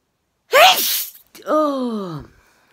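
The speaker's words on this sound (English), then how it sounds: "I can feel a sneeze coming on." One intense human sneeze, a sharp explosive burst followed by a drawn-out voiced exhale, sounding close and loud against silence.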